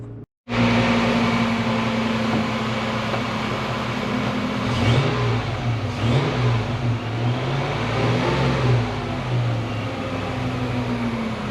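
A Toyota Prado engine with an M90 supercharger runs continuously and loudly close by, a steady hum with whining harmonics, revving up and down in a few short blips.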